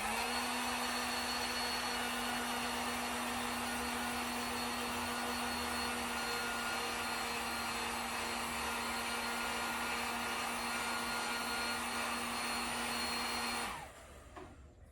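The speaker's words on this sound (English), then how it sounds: "So I got my heat gun here." A heat gun on high blows with a loud, steady whooshing roar and a faint hum while warming waterproofing wax, running continuously before switching off near the end.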